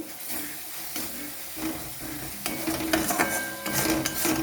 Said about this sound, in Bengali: কয়েকবার নাড়াচাড়া দিতে দিতে টমেটোটা গলে গেছে